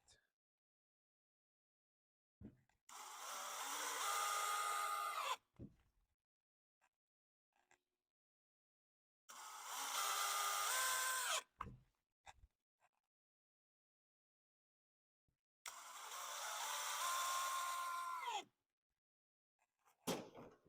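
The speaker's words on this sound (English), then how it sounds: "we'll go ahead and screw some screws into it, just to make it nice and sturdy" A power drill drives screws into a snowmobile taillight mount on a Ski-Doo Citation, three separate whirring bursts of a few seconds each with rising pitch, loud and close, with silent gaps between them.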